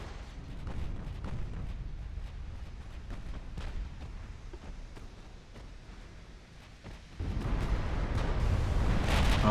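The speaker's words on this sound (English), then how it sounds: "It's interesting to watch the firing from here that's going into the Württemberg." Naval artillery pounds the battleship Württemberg in the naval warfare game Ultimate Admiral: Dreadnoughts, with a steady rumble of distant gunfire and booms that swell louder and denser near the end.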